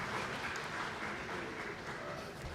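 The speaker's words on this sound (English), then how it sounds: "Please give the 4 panelists a big round of applause once again." Conference attendees at an EU-Korea ecodesign cooperation forum applaud four panelists after a policy session, a soft, distant, even patter of clapping lasting the whole stretch.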